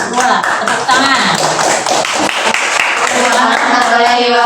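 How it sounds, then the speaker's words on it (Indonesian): Clapping from a group of students in a tenth-grade Islamic studies classroom, close and uneven, with scattered taps and thumps mixed with voices talking over it for a few seconds. "Tepuk tangan."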